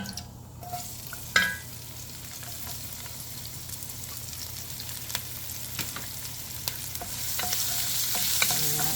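Chopped onion frying with cumin in a hot pan for a turkey curry kofta: a steady close sizzle with scattered spatters and stirring scrapes, growing louder and hissier toward the end.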